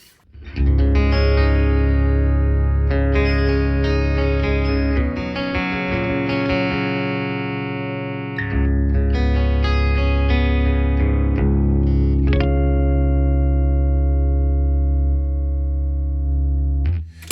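Sustained clean electric guitar chords through a Peavey Invective 120 amplifier, piezo with coil-split pickups, ring out with a shimmering chorus-like effect, loud and close, each strum left to sustain and decay.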